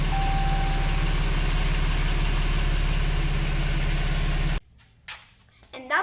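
Ram 3500 pickup with a 6.7 diesel engine idling right after starting, a steady low close rumble that cuts off abruptly near the end, leaving quiet handling noises.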